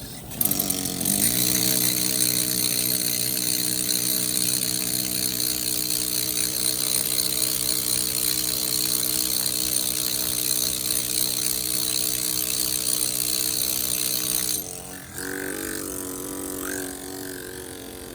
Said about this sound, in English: Now, as I'm drilling